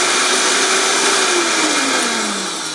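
A kitchen blender grinds whole jalapeños, seeds and all, for a quick salsa, running loud and steady with a motor whine that slowly drops in pitch as the peppers break down.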